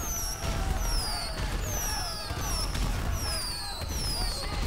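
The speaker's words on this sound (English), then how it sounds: "How about this? Confetti and explosions" Confetti and explosions set off by a GTA V mod in the video game, a run of whistling rising-and-falling pops and bursts repeating every second or so over a dense crackling bed, with a voice faintly underneath.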